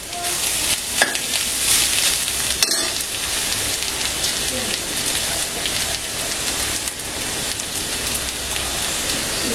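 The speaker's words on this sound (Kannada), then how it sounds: "ಕೊಬ್ಬರಿ ಕೆಂಪು ಕಲರ್ ಬರೋವರೆಗೂ ಇದನ್ನ ಹುರ್ಕೋಬೇಕು" Onions with ground coconut, cumin and garlic stir-frying in a pan for Mangalore chicken sukkha, giving a steady close sizzle with scraping stirs throughout and no talk.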